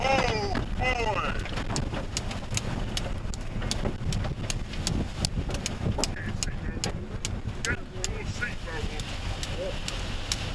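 Strong wind buffeting around a boat, a loud continuous roar with rumbling gusts and clattering knocks, while voices shout over it.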